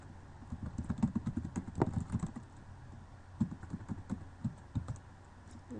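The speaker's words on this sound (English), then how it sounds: "I'm just going to type what I should have on my first page." Typing on a computer keyboard while entering a name into a Word document, with bursts of quick, close key clicks broken by short pauses and no talking.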